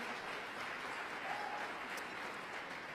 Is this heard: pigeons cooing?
no